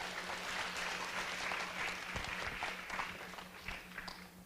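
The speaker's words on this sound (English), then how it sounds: "let's use our warm applause to welcome him" An audience at a lecture on climate, power and capital gives warm applause to welcome a speaker, a dense, even wash of clapping from many hands throughout, with no talk over it.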